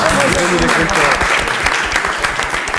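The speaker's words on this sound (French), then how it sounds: "on peut applaudir quand même" A small audience breaks into dense, steady applause, with voices calling and talking over the clapping throughout.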